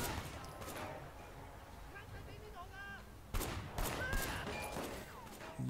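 Pistol shots in the action game Sleeping Dogs, a few sharp cracks at close range punctuating faint ambient game sound, with someone talking quietly in between.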